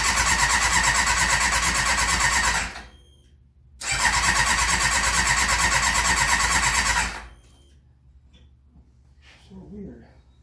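A Ducati Monster cafe racer build fires up in two loud bursts, the engine catching and revving roughly for a few seconds each time, with a short gap between them and quiet afterward.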